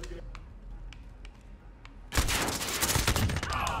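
Call of Duty Modern Warfare gunfire in a 1v1 match on the Shipment map: faint spaced single shots, then a loud sustained burst of rapid automatic fire continuing to the end.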